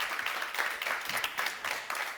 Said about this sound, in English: let us give them a round of applause to say thank you